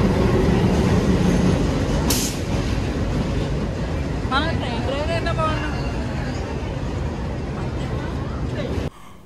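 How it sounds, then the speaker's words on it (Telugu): The Hirakud Express pulls into a station platform with a loud, continuous rumble and clatter of wagons, a high wheel squeal rising partway through, while a crowd murmurs and voices talk nearby. "సో ట్రైన్ అయితే వచ్చేసింది."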